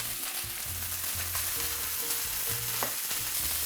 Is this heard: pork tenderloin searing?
yes